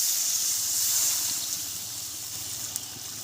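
Water pours steadily into a pan of sautéed cauliflower and potatoes, a continuous bright hiss and sizzle that gradually eases, close by with no talking.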